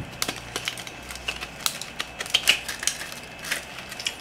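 Scissors snipping and cutting open plastic packaging for a SanDisk 128GB V90 memory card, a close run of sharp, irregular clicks and crinkles with no talking.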